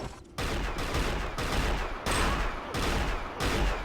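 Sustained gunfire in the arena shooter Unreal Tournament during a one-on-one duel, dense loud rattling bursts broken by short pauses, with no talking.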